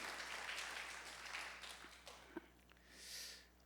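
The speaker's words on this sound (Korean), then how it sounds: "오늘 우리 박수로 한번 크게 격려해 줍시다" A church congregation at a Sunday afternoon service in Hanam applauds its Sunday school teachers. Soft, dense clapping fades out over a few seconds, leaving a quiet room with faint stray noises.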